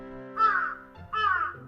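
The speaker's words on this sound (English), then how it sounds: "You can hear the birds chirping." Birds calling outdoors on a fine day: two loud, harsh, crow-like caws, each about half a second, separated by a short pause, close and clear with no talking.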